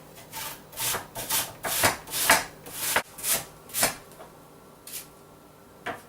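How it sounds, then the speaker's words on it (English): Apple shredded on a handheld cheese grater, a run of rhythmic scraping strokes, close and fairly loud, about nine rasping passes that slow and thin out toward the end, with no talking. "you can use a cheese grater like this as well"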